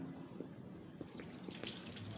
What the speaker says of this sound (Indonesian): Setelah proses steaming tadi, setelah itu dicuci dengan air mengalir.